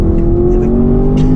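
A 2023 Range Rover V8 P530 4.4 L460 Vogue with a stainless steel exhaust holds a loud, deep, steady engine tone, rising slightly in pitch over a brief moment.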